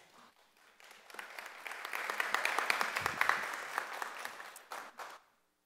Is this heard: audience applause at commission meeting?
yes